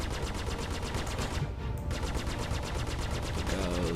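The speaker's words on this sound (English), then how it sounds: "Someone is shooting me." Sustained rapid gunfire from a Star Citizen space combat encounter, Alpha 2.5 with an M50 ship, rattling continuously and loudly with a brief dip partway through before the bursts resume.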